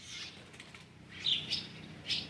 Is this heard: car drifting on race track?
no